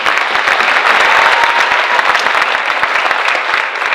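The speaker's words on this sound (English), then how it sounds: "So let's just give them one round of applause one more time." A dense round of audience applause at a high school senior recognition night honors the faculty and staff, loud and steady with many hands clapping throughout.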